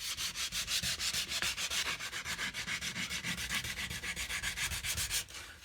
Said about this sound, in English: Sandpaper and elbow grease.